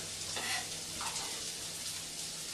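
Shallots frying in a pan make a soft, continuous sizzle with faint stirring scrapes, heard quietly and alone.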